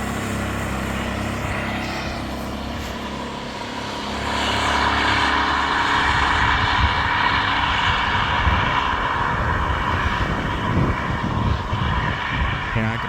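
A quieted street-legal go kart drives off down the road, its engine a steady drone that rises and then stays constant as it pulls away, with someone talking over it.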